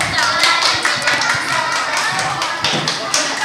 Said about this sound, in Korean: 우리 친구들 박수 쳐주세요.